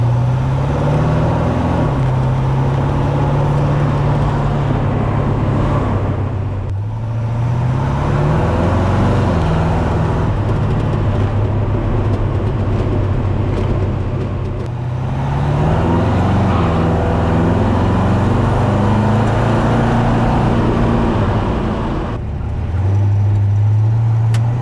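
A 1952 Ford F-1 resto-mod pickup with a 350 V8, driven down the road: a loud, close, steady engine rumble that swells and eases as the truck speeds up and shifts, with some road noise.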